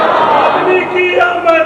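A rally crowd chants religious slogans in unison, loud and close, with a dense, sustained roar of many voices.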